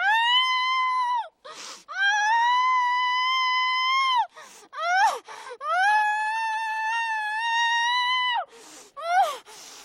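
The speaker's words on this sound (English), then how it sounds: "tries to scream without much success" A woman in a horror film screams in long, strained, sustained cries broken by short gasping breaths, loud and close with no other sound behind her.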